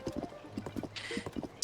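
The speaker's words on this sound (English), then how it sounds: "And also a giant Gerudo horse." Hooves of a giant Gerudo horse clip-clopping in Tears of the Kingdom, a brisk steady gallop of close repeated hoof beats with a brief bright game sound partway through.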